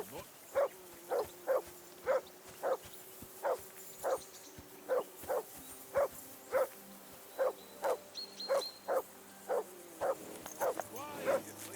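Mutt, a dog in Kingdom Come: Deliverance II, barks in a steady run of about twenty evenly spaced, fairly loud woofs with faint background ambience and no speech.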